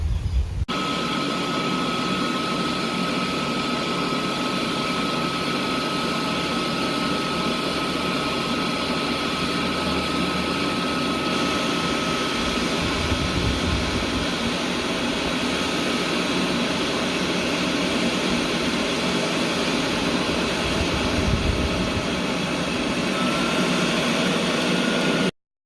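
Air blower fanning a cooking fire for a caveman-style reverse-seared steak: a steady, loud rushing roar of blown air that holds without a break, with faint low rumbles of the fire beneath.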